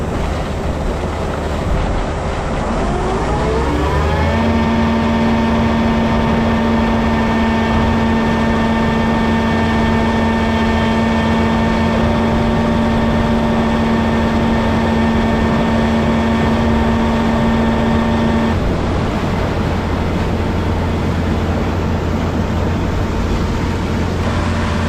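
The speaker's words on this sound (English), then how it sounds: "We're gonna turn the pump on" A pump starting up in a manure pit, first a rising whine that settles into a loud, steady mechanical drone with a sustained tonal hum, running for most of the clip before the tone drops away, leaving engine rumble.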